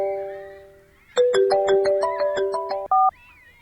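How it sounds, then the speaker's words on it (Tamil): A phone ringtone rings loudly and close: a short bright melodic sequence of clean electronic tones in quick steps, ending with a held double tone, with a faint tonal background before it starts. "ஃபோன் அடிக்கிறப்பார்."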